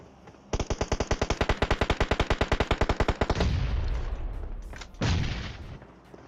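Rapid automatic gunfire in the mobile battle-royale game PUBG Mobile, a fast even burst of about thirty shots followed by a roaring blast and a second boom, loud and close with no talk.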